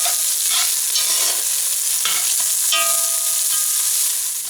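Rice for Mexican rice stir-fried in a hot pan, a loud, continuous sizzle with brief scraping strokes of stirring breaking through at intervals, no voices.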